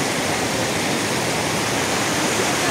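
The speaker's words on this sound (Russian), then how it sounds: "Решили подойти, посмотреть водопад." Waterfall in the Khacharoy gorge in Chechnya, a steady broadband rush of falling water that holds constant and fairly loud with no other sounds.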